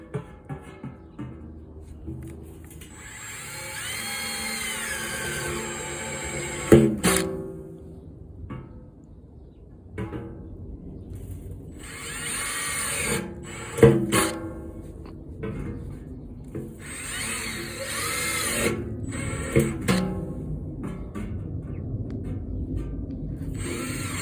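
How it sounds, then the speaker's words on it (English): A Makita power drill bores into soil while dahlias are being planted outdoors, with bursts of whirring and grinding that stop and start, thuds and clatter between them, all heard close by. "What is that? A Makita? Is there a certain drill bit? What kind of drill bit is that?"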